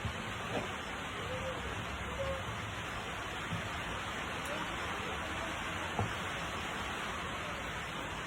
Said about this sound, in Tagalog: ganyang umuulan